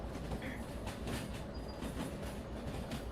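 A train shunts around the harbor in the Derail Valley game, with a steady rolling rumble of rail cars and rhythmic clickety-clack of wheels, a brief high squeal partway through, continuous and fairly close.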